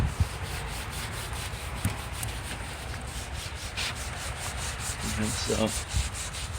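Grease being wiped off a surface with Super Clean degreaser makes a steady close rubbing and scrubbing sound throughout, and a voice briefly speaks near the end.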